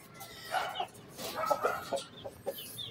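Brooding hens give soft, close clucks and low grumbles in a short run of scattered calls, with faint background noise and no clear talk.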